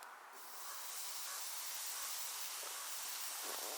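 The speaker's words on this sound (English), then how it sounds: "we're gonna slap it on the grill. It has to give it a sizzle." Steady close-up sizzling hiss of a ribeye steak on a grill, dense and continuous, swelling slightly after the first half second and holding level throughout.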